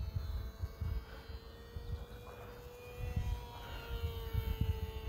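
A Hobbyzone Champ RC plane, its aging motor a bit down on power, flies with a thin, steady whining drone that stays faint and constant, with no voices heard.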